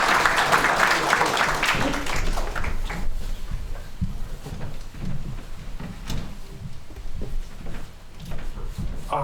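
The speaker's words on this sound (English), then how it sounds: "Round of applause, everybody" An audience at an AI marketing meetup claps steadily, a dense wash of applause that starts strong and slowly thins out over several seconds.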